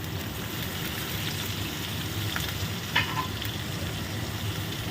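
Chopped onions frying in a pan with bay leaves, cardamom and cinnamon for gobindo bhog rice khichuri cooked with three kinds of dal, giving a steady close sizzle throughout with a brief stirring scrape near the middle and no voices.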